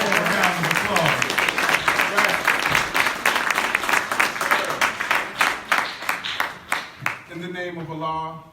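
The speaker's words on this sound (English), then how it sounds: "Round of applause." A crowd at a mosque student ministry event gives a round of applause, with dense clapping that thins into scattered separate claps before a voice starts speaking.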